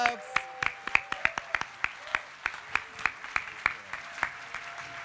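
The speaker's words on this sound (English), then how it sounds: "Let's give them an even louder round of applause." Distinct, well-separated claps from a talent show audience, rhythmic and fairly sparse rather than a thick wash of applause, with a faint voice and tonal background underneath.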